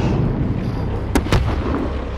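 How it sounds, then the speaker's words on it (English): In-game explosion from Call of Duty: Modern Warfare, two sharp broadband bursts close together over a constant low rumble of battle noise, heavy and near. "Fire in the hole!"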